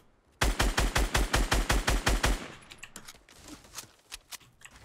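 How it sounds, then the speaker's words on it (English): A rapid burst of about a dozen loud, evenly spaced gunshots fired at a brick wall in Fortnite, followed by quieter scattered shots and clatter. "Oh, shoot that brick out, shoot that brick out."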